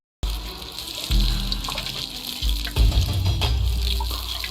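Holy water pours over hair in a TV shampoo-commercial parody, a steady close splashing flow of liquid with a few louder gushes and no talking.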